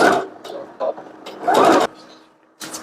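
A sewing machine finishes a seam on a lined child's dress with a backstitch. Short, loud bursts of motor whir start and stop in quick succession, heard close up and uneven, with no one speaking.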